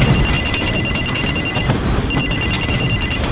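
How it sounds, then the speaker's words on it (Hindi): A phone rings with a loud, steady electronic tone, pulsing in quick repeated cycles over a noisy background, then briefly drops out before resuming. "थोड़ी देर में मेरा फोन बजा।"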